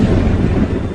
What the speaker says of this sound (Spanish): vieron otro relámpago.